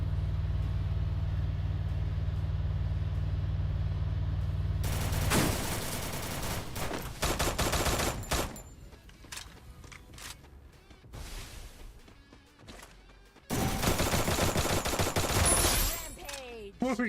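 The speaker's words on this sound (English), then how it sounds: "they are shooting at me" Bursts of automatic gunfire aimed at the player in the Free Fire MAX shooter, rapid loud volleys cutting in suddenly, thinning into scattered shots, then a second dense barrage near the end, with a low engine-like drone before the firing starts.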